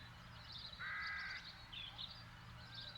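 Crows in The Dark Eye: Chains of Satinav video game give several harsh caws, one long and loud followed by shorter ones, against a low steady background hum.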